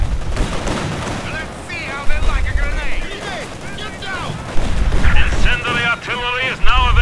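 Incoming artillery rounds explode in Company of Heroes 2 battle, loud booms and gunfire crackling throughout, mixed with shouting soldier voices.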